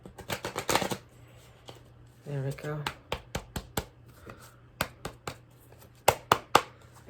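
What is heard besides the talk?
shuffling tarot cards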